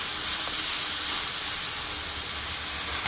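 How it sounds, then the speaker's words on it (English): Lemon juice hitting a hot pan of lamb saag curry with chili and garam masala, giving a loud, steady steamy hiss and sizzle that holds evenly throughout without a break. "I'm just going to add a little lemon juice"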